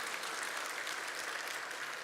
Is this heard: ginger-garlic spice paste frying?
no